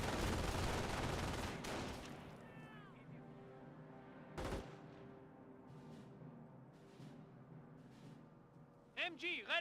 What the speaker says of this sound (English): These guys do get suppressed by the MG42 over here.